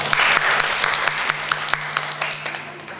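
Applause from a group at an etiquette class, dense steady clapping with sharp individual claps standing out, close and loud throughout, with no voices over it.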